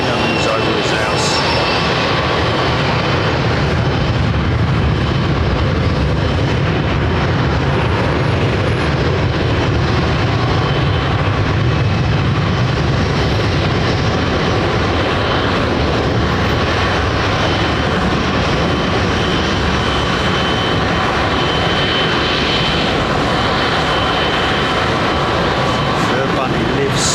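An RAF airliner passes overhead on the flight path near Heathrow Airport, a loud, sustained broadband engine roar lasting the whole time, with faint voices beneath it.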